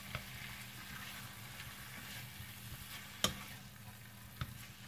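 Marinated pork sizzles softly in a pan with no added oil, a quiet steady frying hiss with a couple of brief stirring clicks, close and alone.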